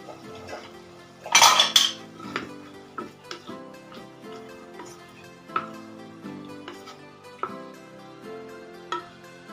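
Spoon clanks and scrapes against a metal pot while stirring creamy chicken and mushroom with vegetables, opening with a loud cluster of clatters and then settling into scattered, lighter knocks at an uneven pace, close by with no talking.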